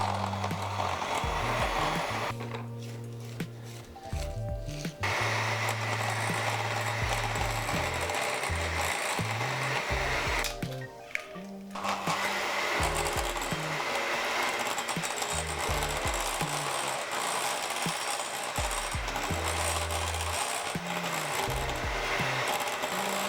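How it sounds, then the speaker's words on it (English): An electric hand mixer whisks eggs into creamed butter and sugar for banana walnut muffin batter, a steady loud mechanical whir that runs almost continuously, with brief pauses and changes in motor pitch. "you can add the eggs one at a time, and you want to whisk for about 30 seconds in between each addition."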